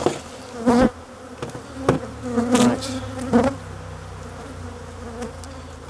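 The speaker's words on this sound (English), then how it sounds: "Stop these flying bees from getting to me." Angry honeybees from an opened hive buzz continuously close by, with loud swells as individual bees fly near, and a brief spoken word.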